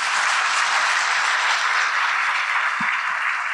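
A mushaira audience in Doha, Qatar applauds warmly to welcome poet Aalok Shrivastav, a dense, continuous wash of many hands clapping at steady loudness throughout.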